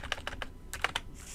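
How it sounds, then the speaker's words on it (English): Keys clatter on a computer keyboard in quick, uneven bursts of sharp clicks, close by, with a brief pause before a final flurry of taps. "I'm struggling so much typing today"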